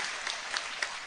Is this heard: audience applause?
yes